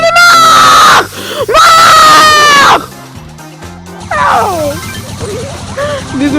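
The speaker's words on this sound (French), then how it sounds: "Désolé si je crie." A man screams loudly in frustration during a Brawl Stars gaming session, two long strained yells in quick succession, then quieter strangled vocal sounds and muttering.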